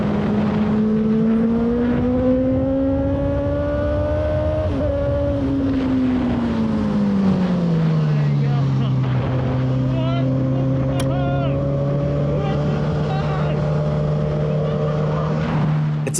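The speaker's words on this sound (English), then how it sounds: "You can literally hear me screaming over the sound of the engine and the wind." A litre-class motorcycle engine drones loudly at speed, pitch rising and falling, mixed with rushing wind noise throughout, close and continuous.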